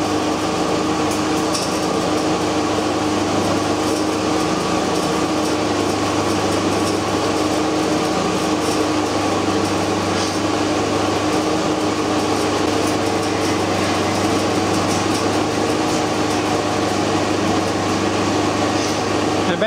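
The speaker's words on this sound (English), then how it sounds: "Basically what it's doing here is it's just taking the refrigerant out of the hoses and taking it back into the tank." A refrigerant recovery machine pulls refrigerant from the hoses back into its tank beside a running vehicle, giving a steady, loud mechanical drone with a constant hum that carries on unbroken throughout.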